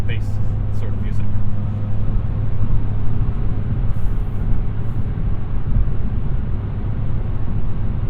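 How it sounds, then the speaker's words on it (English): Steady low road and engine rumble inside a 2021 Hyundai Veloster N cruising at highway speed, a loud continuous drone with a prominent low hum and no clear breaks. "the Veloster is a bit loud at highway speeds"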